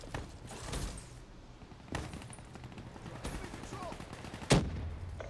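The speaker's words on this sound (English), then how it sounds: "I hear somebody else rocking the shotgun" Shotgun fire in Call of Duty Black Ops: several sharp, separate blasts spaced irregularly over a low background of game noise and faint voices.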